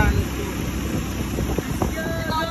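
A turbocharged 4x4 dune buggy with a Mazda engine idles and runs steadily on a beach, a constant low rumble with wind noise across the microphone throughout.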